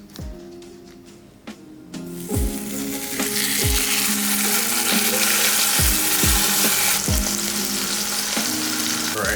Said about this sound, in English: we are going to sear it all around so we get a nice browning and get that Maillard reaction going in the pot